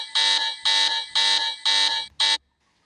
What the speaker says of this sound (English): We have the alarm bell, goes like this.